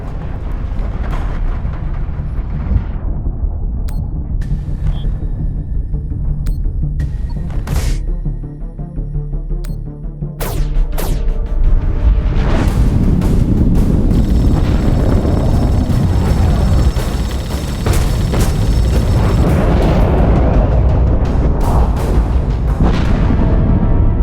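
A space battle in The Expanse video game brings loud, rumbling booms and heavy gunfire bursts that build into a dense, continuous barrage of explosions and ship weapons fire.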